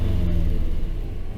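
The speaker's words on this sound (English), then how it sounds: "maybe I should just put the camera down and give you guys some revs" A 2025 Cadillac CT5-V Blackwing's V8 rumbles deeply and swells as it revs briefly, a loud throaty burble close by that settles back down.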